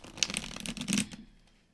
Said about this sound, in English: You're just going to keep shuffling them